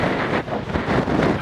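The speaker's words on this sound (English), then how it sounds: "it's still pretty windy up here" Strong gusty wind on a Lake District fell top buffets the microphone, a loud, rough roar that surges and dips without pause.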